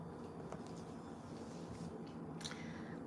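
A pet crunches on carrots up close, with steady, soft chewing and munching that runs throughout and grows a little louder at the end.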